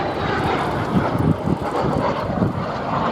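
A Hawker Siddeley Gnat jet performing at the Duxford airshow, a steady broad roaring engine rush with wind buffeting, loud and continuous throughout.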